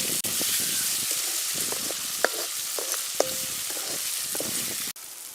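Tomatoes frying in a pan with rock salt while making a village-style fish curry produce a constant close sizzle, with scattered pops and a few stirring clinks.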